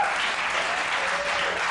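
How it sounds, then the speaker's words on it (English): Audience applause at a Letterman talk show taping, a dense steady roar of clapping filling the whole moment with no voices over it. "More applause. More applause."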